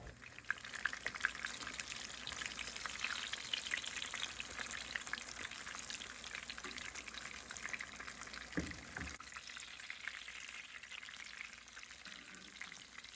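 Breaded chicken fries in hot oil, a steady dense sizzle and crackle throughout, fairly quiet and close, with a brief low knock partway and no talking.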